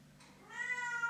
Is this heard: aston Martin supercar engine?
no